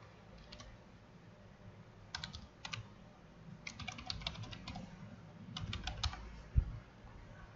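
A username is typed on a computer keyboard: short bursts of quick, light key clicks separated by pauses, close and fairly quiet, with no talking.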